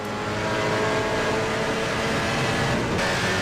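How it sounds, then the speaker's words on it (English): Simulated race car engine in rFactor 2 running rough and off-pitch, a loud continuous drone with shifting harmonics that change tone near the end. "Engine didn't sound quite right."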